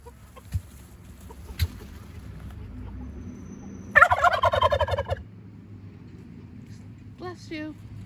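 A turkey lets out a loud, warbling gobble lasting about a second, followed later by a shorter, fainter gobble, over a quiet outdoor background with soft scattered knocks and faint clucking.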